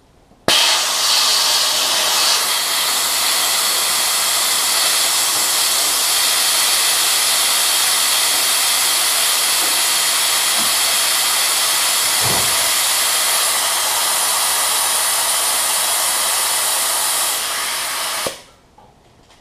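An Astro Pneumatic 78585 venturi air vacuum tool runs on a vehicle coolant system, giving a loud, steady hissing roar that starts abruptly, holds for about eighteen seconds and then cuts off.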